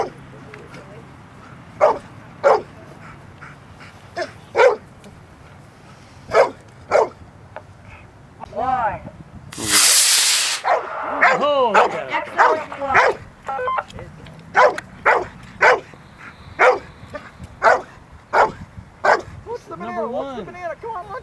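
A dog, a female, barks repeatedly in sharp separate yips and bow-wows at a model rocket launch, with a loud whooshing rocket burst midway and whimpering pitched barks after, close and clear over outdoor background.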